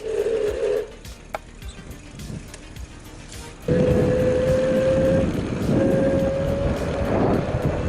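An ANCHEER electric bicycle's hub motor running at full throttle with no pedaling, giving a steady mid-pitched whine that briefly fades, then returns louder over road and wind noise.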